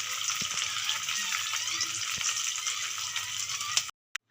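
Chilies frying in a wok, a steady close sizzle and crackle with a few light clicks, cutting off abruptly near the end.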